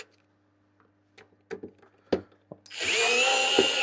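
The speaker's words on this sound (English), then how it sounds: "I'm just undoing screws" Screws being undone during an electronics repair: several sharp, separate clicks and taps of the screwdriver, then a loud, steady whir from a powered driver running for the final second.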